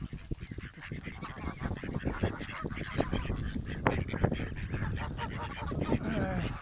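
A flock of geese honking and calling over and over at Abberton Reservoir, Essex, UK, a busy, overlapping chorus of birds close by with some faint talk mixed in.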